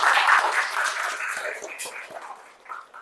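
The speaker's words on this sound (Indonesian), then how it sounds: "Beri tepuk tangan ya teman-teman ya." An audience claps at a university teaching presentation, a brief scattered round of hand claps that fades out within a few seconds.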